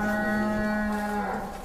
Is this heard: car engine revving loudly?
no